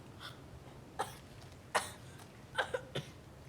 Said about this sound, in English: Young man, why are you just coughing here?